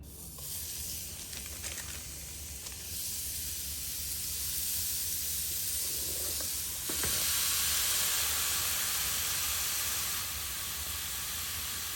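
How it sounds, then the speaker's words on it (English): Greek burger patties sizzle steadily on a hot double-sided electric grill, a broad continuous hiss that swells slightly partway through, with no talking. "My green light is on, so let's get these grilling"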